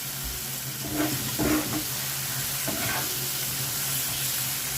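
Spice masala for doi katla sautéing in a pan, a soft steady sizzle with a few brief stirring scrapes, fairly quiet and without talk.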